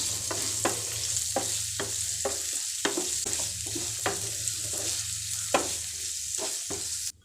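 Onions sauté in a pan for a spicy Kottayam-style anchovy fish curry, a continuous close sizzle punctuated by repeated scraping stirs of a spoon at an uneven rhythm, no talking.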